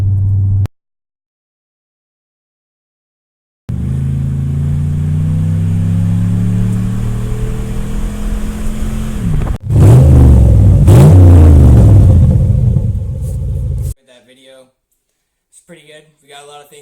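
Pontiac Grand Prix GXP with a fresh transmission and no mufflers, engine revving loudly while driving, rising harmonic growl after a silent gap, with a sharper louder burst midway before cutting off.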